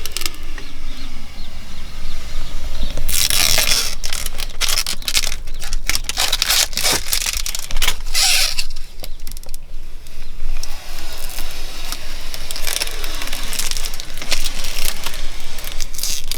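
Protective plastic foil is peeled and crinkled off an original Volvo camper mattress, with bursts of crackling, tearing and rustling over about sixteen seconds, close and fairly quiet.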